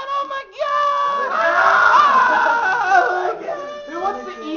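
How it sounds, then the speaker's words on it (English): A crowd clamors near a stage, a dense mass of overlapping excited voices and shouts that swells and stays loud and close throughout. "This is the crowd that's clamoring at the stage"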